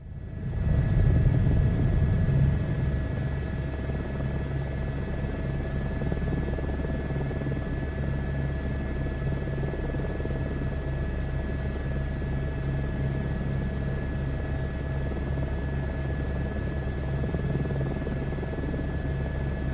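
A helicopter in Microsoft Flight Simulator 2024 drones steadily for about twenty seconds, a loud, even rotor and turbine rumble with a constant whine, swelling slightly at the start and never letting up.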